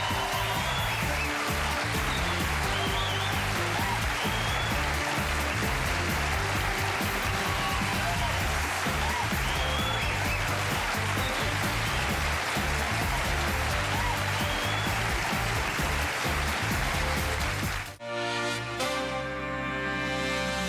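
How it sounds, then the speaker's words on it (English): A studio audience at a late-night talk show applauds steadily in a dense, continuous wash of clapping that runs for many seconds before cutting off abruptly. "I'm humbled by that applause."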